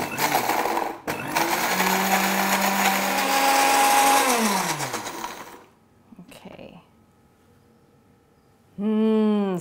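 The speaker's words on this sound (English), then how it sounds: "This blender is not the most powerful of blenders." A not-very-powerful countertop blender grinds young ginger with a little water, its loud whirring motor running steadily for several seconds, pitching down as it stops, then a brief renewed burst after a pause.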